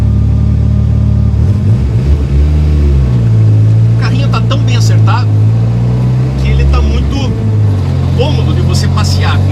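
A 1989 VW Gol 2.0 turbo van idles and revs with a deep, loud engine and exhaust drone heard from inside the cabin, rising and falling in pitch while someone talks over it.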